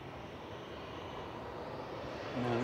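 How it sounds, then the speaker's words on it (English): A Ryanair jet from Porto rolls out after landing at Manchester Airport, a continuous engine rumble that swells louder near the end as a rising whine cuts through. "Ryanair from Porto just rolling out with flight 1174."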